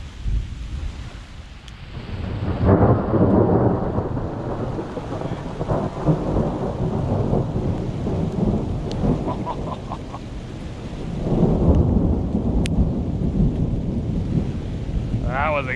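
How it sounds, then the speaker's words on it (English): Rain falls steadily outdoors at a lake while thunder rumbles in long rolling swells, one building near the start and another later, with wind buffeting the microphone and a faint voice or two underneath. "Rain's coming down."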